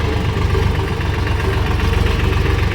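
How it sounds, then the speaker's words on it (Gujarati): A tractor engine running at a farm as it drives off, a loud, steady, close low rumble that holds throughout without pause. "તો આ ટ્રેક્ટર જાય છે ઘરે હવે"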